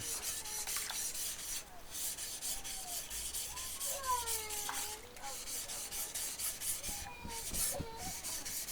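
A kitchen knife is sharpened with steady, repeated rubbing strokes on a stone, a quiet raspy scraping that keeps an even rhythm with brief pauses.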